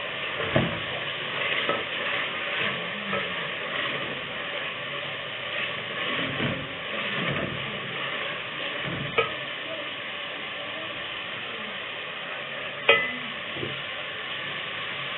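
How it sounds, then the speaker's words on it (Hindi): Vegetables and double chilies frying in a pan for a carrot and pea curry, a continuous sizzle with repeated stirring scrapes and an occasional sharp clack of the spoon, close and steady with no talking. "मैं सारी चीज़ों को अच्छी तरह से भूना"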